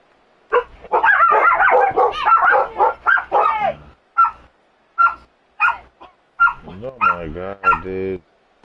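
Dogs bark in a loud, close burst of rapid overlapping barks and yips, then settle into single spaced barks with short gaps between them, ending in a whining yelp.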